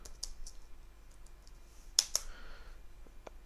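Computer keyboard typing while coding a Java Minesweeper game, a few sparse clicks followed by a sharper pair of keystrokes near the middle, close and fairly quiet with no talking.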